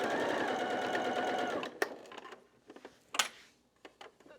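A sewing machine runs in a fast steady burr while stitching a Christmas tree skirt, then stops, leaving a few faint clicks and handling taps.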